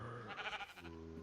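Sheep bleating in the TerraFirmaCraft game, a short wavering cry heard near and fairly loud, alone without speech.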